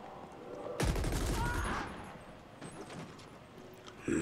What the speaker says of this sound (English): how the gun sound, man. So deep and nice.